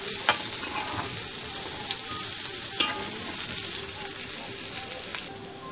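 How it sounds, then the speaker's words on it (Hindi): Chopped green chillies and onion fry in a pan for a spicy okra and coconut dish, a continuous close hiss of oil broken by a few sharp clinks and scrapes of a spoon stirring. "अब हम इसमें डालेंगे हरी मिर्च कटी हुई, कांदा कटा हुआ, इसे थोड़ा हम 2-3 मिनट भून लेंगे।"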